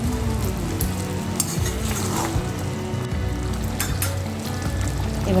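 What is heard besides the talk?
chicken and fried potatoes sizzling while stirred in a pan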